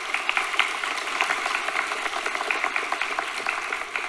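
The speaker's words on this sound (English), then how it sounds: "let's give a round of applause for Jordan." An audience at a university academic awards ceremony claps steadily for about four seconds. The applause is moderately loud and even, and no one speaks.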